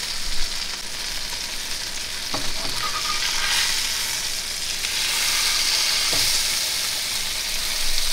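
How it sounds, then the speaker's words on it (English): Blackened fish fillet, snook, searing in a hot pan with a steady, loud sizzle and crackle throughout, a few brief clinks of a utensil stirring or moving it, no talking. "So I'm gonna blacken the other side as well."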